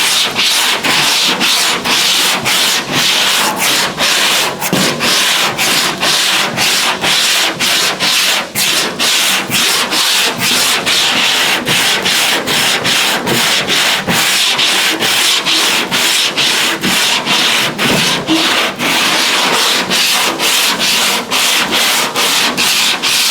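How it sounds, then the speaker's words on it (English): 80 grit sandpaper scuffing a flat 1970 El Camino tailgate panel by hand, producing loud, close, rhythmic rasping strokes in a fast steady back-and-forth pattern throughout. "I'm just using some 80 grit here to scuff this up"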